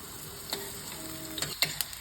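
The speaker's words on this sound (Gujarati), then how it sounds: "તો હું આ લસણને થોડું સાંકળી લઈશ, લાઈક હલકું એવું ગોલ્ડન બ્રાઉન કલરનું થાય ત્યાં સુધી" Garlic fries in a pan toward golden brown, giving a soft, close sizzle with a handful of sharp ticks and spatula scrapes near the end, and no one speaking.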